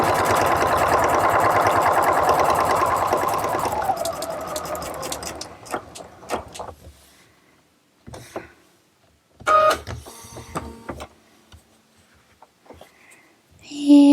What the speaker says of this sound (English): We're just going to sew around all 4 sides and leave an opening.